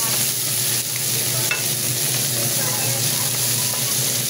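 Simple ingredients sauté in a hot pan, giving a steady close sizzle and fry hiss with occasional stirring scrapes, continuous throughout.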